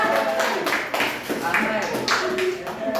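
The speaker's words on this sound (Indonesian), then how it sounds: "tepuk tangan buat kelompok 2" A fourth-grade class gives quick bursts of hand clapping for a group during a micro-teaching lesson, with children's chatter and talking mixed in between the claps.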